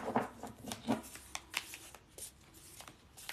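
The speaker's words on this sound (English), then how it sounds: "I'm going to start shuffling." Tarot cards are shuffled by hand in a series of quick, soft, papery riffles and taps, uneven in rhythm and close by, with no talking.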